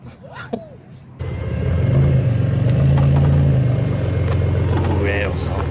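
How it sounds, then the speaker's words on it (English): A turbocharged V6 Pontiac minivan engine with something broken rumbles and revs steadily, with irregular crackling and rattling pops over the drone, close and fairly loud. "there's something broken up here someplace. It's like crunching, popping"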